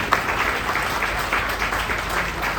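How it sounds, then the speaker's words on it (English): At a gala for a Parkinson's cure, an audience breaks into a dense, sustained round of applause that stays steady and full throughout. "Big round of applause."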